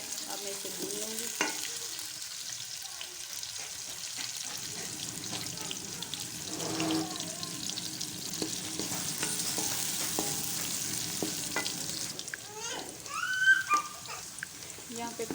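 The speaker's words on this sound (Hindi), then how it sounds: "कढ़ाई में घी डाल चुकी हूँ, उसमें प्याज डाल दिया है। अब मैं इसे भून लूँगी।" Onions frying in ghee in a kadai, a steady close sizzle with occasional stirring scrapes and clinks, plus a few faint dog barks in the background near the end.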